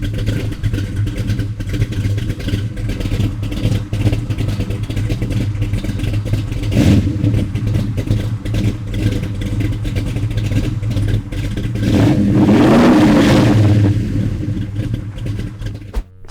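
A 1969 Chevelle restomod with a 540ci, 650 hp big-block V8 idles with a deep, loud, lumpy rumble, then revs up sharply near the end before settling again, with no talk.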